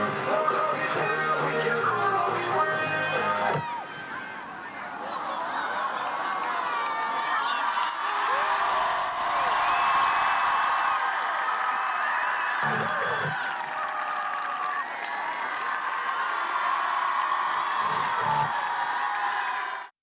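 A crowd at a high school game cheers and claps loudly for a performance, a broad sustained roar of voices, whoops and applause that swells, dips briefly, then rises again, heard from within the stands.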